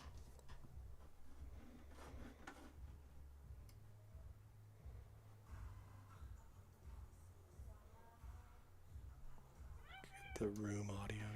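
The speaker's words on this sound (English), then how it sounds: "Pick up that cat noise." A cat meows in a room during a match, the faint cries coming near the end over low background hum and ticking, with quiet talk in the room.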